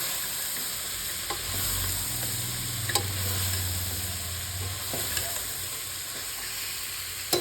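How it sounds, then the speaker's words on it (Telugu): Ridge gourd pieces and cowpeas get stirred in a hot pan, a continuous sizzle broken by repeated scraping strokes of a spoon, with a low hum running underneath. "కట్ చేసి పెట్టుకున్న బీరకాయ ముక్కలు వేసి అలా కాసేపు కలుపుతూ ఉండాలి."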